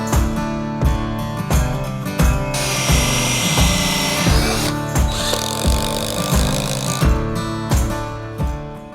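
A cordless power drill drives fancy stainless steel screws into logs for a wedding arch outdoors, pulsing in short bursts of whine and clatter with a longer sustained high-pitched run in the middle, loud and close.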